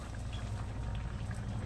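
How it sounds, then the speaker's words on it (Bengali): A pot of tomato and jujube chutney with sugar bubbles softly over the heat, a faint, steady simmer of small pops and gurgles. "এবার একটু ফুটবে, তারপরে নামিয়ে নেবো।"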